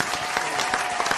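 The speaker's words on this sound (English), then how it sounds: "Get a bishop a round of applause" A short burst of steady audience clapping for a bishop at a religious talk, dense and close, lasting only about a second.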